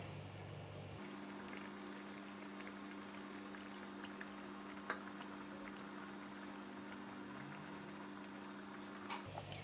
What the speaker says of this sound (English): make sure that the curry is boiling vigorously and then don't stir